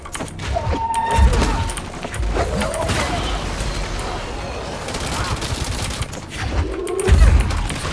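Bursts of gunfire and heavy explosions from the video game Control, rapid fusillades punctuated by deep booms and crashes, with a voice talking over parts of the action.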